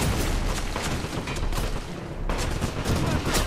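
Dense, continuous gunfire in the video game Wolfenstein, heavy rapid bursts and booms packed together close and loud, with a brief dip before the shooting surges again.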